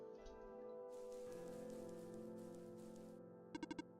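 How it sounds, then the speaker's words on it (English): Steady rain patters in the video game OneShot, a soft continuous hiss over a sustained musical drone, ending with a few quick chime-like blips. "Rain."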